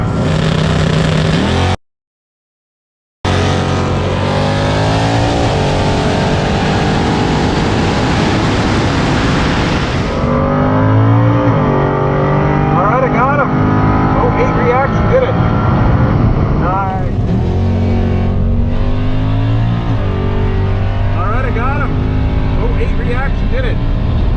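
Loud drag racing engines roar and rev hard at a dragstrip, their pitch climbing through repeated gear changes, with one brief gap of silence early on.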